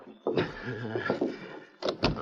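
Radio-drama sound effect of a door closing, a couple of short knocks and thuds near the end after a stretch of talking voices, fairly close and moderate in level.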